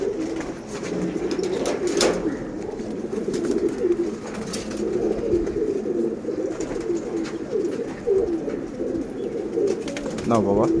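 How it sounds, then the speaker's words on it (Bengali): Pigeons, including newly hatched young, in a loft at feeding time, with soft cooing murmurs and fluttering rustles running steadily throughout, close by, and a person speaking intermittently over them. "আরো কিছু কবুতর আছে,"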